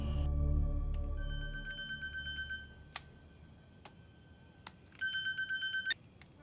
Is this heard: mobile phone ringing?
yes